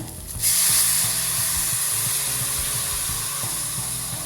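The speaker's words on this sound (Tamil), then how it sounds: "உங்களுக்கு தேவையான அளவு தண்ணியை ஊற்றி இந்த காய்கறியை கொதிக்க வச்சுடுங்க" Vegetables bubbling in a pot of water for uppuma, a steady sizzling, hissing simmer that runs unbroken from start to finish, close by.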